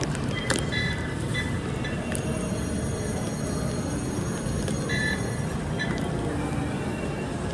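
A steady rumbling train ride heard from inside, with constant low roar, rattling, and faint metallic squeals throughout.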